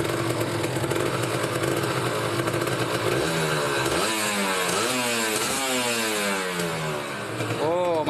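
A Kawasaki Ninja RR two-stroke motorcycle with a new reed valve membrane, choke on, idles loudly close by, then revs in repeated rising and falling throttle blips, with a voice talking over it.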